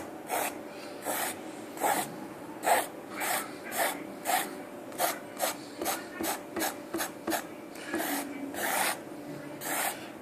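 A fork swiveled through wet paint on canvas while making an abstract painting, giving a series of soft rasping scrapes in an irregular rhythm, close and fairly quiet, with no talk.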